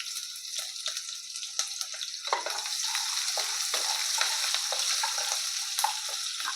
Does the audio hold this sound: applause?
no